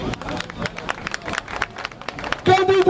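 A crowd at an outdoor political rally at Place de la République in Paris applauds in a steady wash of clapping with murmuring voices, swelling louder toward the end.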